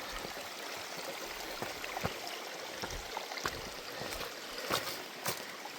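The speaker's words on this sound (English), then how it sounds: "Nice little water source." A small stream of water flowing beside a trail on the Long Trail, a soft continuous trickle and burble with faint splashes, moderately close and quiet, with no voices.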